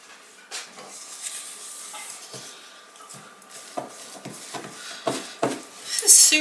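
A spoon stirs a thick breakfast mixture of milk and other ingredients in a bowl, making irregular scraping knocks and clinks that grow louder toward the end, close up, with a person talking at moments.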